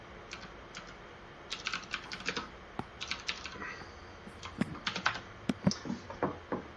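Fast typing on a computer keyboard, a run of crisp clicky keystrokes in irregular bursts with short pauses, close and fairly quiet, with no voice.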